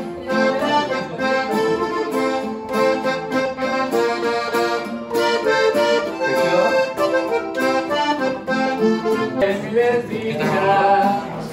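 An improvised cantina-style song plays continuously at a steady, lively tempo, with dense harmonic instrumental music that stays loud and full throughout.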